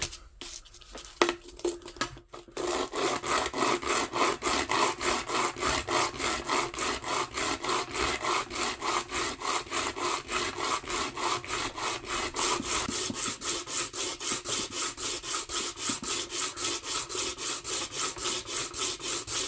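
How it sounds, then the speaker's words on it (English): Bone blanks for guitar picks being sanded flat on 80 grit sandpaper, a steady close rhythmic rasping scrape of back-and-forth strokes running continuously after a brief start. "Now we gotta flatten them more. Be using all sandpaper and stuff. Let's get to that. This is just some 80 grit."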